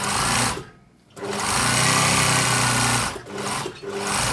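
A sewing machine stitches a blouse side seam, running in loud close bursts of buzzing whir with a short stop near the start and brief pauses toward the end.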